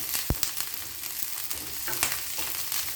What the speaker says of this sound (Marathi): तेल तापलं आहे आपलं आता याच्यामध्ये आपण घालूया मिरच्या